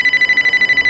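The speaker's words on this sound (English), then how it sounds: "I think that is the sound of the phone ringing again." Telephone ringing with a rapid electronic trill, a steady pulsing tone with quick regular beats, loud and alone.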